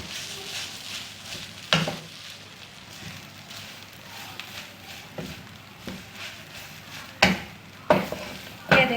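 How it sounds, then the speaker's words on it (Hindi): A spoon scrapes and stirs a creamy chicken roll filling in a pan, with soft continuous sizzling and occasional sharp scraping knocks against the metal. "इसे मैं अब हर तरफ से मिक्स कर लूँगी"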